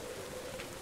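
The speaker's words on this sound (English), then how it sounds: "it is raining" Steady rainfall from the video game Don't Starve Hamlet, a constant soft hiss throughout the brief moment with no voices over it.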